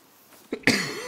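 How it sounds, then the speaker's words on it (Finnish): A person coughs during a hunting video game session, giving one short, close, rough burst followed by a brief throaty vocal sound. "Jeesus, tää yskä."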